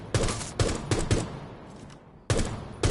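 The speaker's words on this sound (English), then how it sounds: "Shoot the target. Now try while aiming down your sights." Gunshots at a shooting range target in Rainbow Six, sharp loud single shots fired in a quick irregular series, a short pause, then two more, close and alone.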